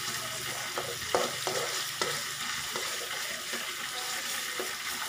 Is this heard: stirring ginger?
yes